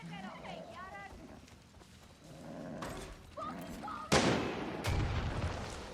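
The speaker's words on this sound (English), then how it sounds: "Who's shooting? Hey! Cut it out with the rocket launcher." In Far Cry 6, a rocket launcher fires with a sudden loud blast followed by a booming second impact, set against shouting voices and background commotion.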